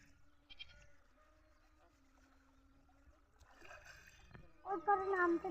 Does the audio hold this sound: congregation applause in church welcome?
no